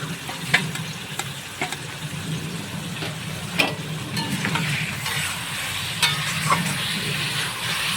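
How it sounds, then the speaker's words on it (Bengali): Spices with ginger paste, chilli paste, cumin, coriander and red chilli powder frying with tomato in a pan, a steady close sizzle broken by occasional scrapes and stirring clicks, no voices. "টমেটোর সঙ্গে মশলাগুলোকে মিশিয়ে একটু ভেজে নিব।"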